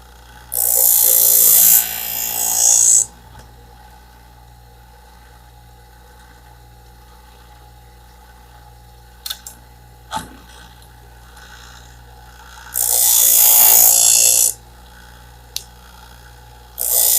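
A sharpening machine grinds a scissor blade in two loud, harsh bursts, one of about two seconds near the start and a shorter one later, separated by a long quiet stretch with faint clicks and handling noises.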